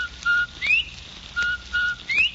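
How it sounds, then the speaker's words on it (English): A bobwhite quail call, whistled for an old-time radio advertisement, comes through as five clear notes in a loose rhythm: flat steady tones mixed with quick rising slurs, each bright and close, with no talk over them. "Everybody loves the cheery whistle of a Bob White."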